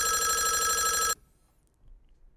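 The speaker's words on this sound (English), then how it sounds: "Telephone." Telephone bell sound effect from the Bismark bs-16i app: a loud, steady electronic ring lasting about a second, cutting off abruptly into near silence.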